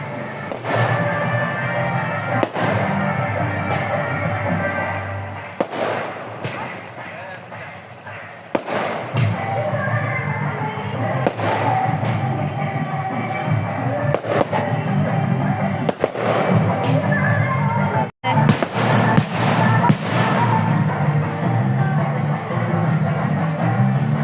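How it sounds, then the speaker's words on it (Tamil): Fireworks burst repeatedly during a child's head-shaving ceremony, with sharp cracks and booming pops at irregular intervals over a steady crowd murmur and nearby voices. "அங்கே வான வேடிக்கை வெடிக்கிறத தான் ஃபுல்லாக ரசித்து பார்த்துக்கிட்டே இருக்குது"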